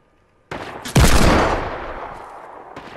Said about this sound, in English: I'll go for a Deagle shot on you.